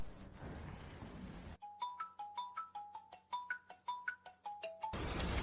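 A phone ringtone chimes a bright repeating melody of quick ding-like notes, loud and alone between stretches of background noise.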